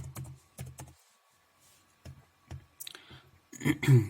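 Typing on a computer keyboard in the Windows search box, heard as short clusters of soft key clicks with pauses between, close and fairly quiet, ending in a denser burst of taps.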